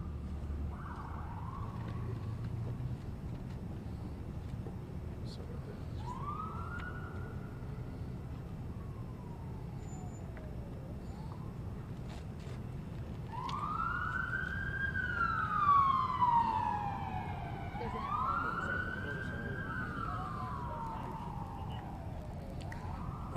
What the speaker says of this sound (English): I'm going to wait for the siren.